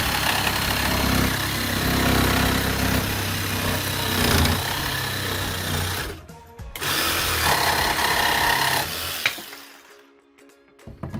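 A Ryobi 18V One+ P5231 cordless orbital jigsaw buzzes steadily and loudly through a cut, pauses briefly, resumes, then winds down near the end.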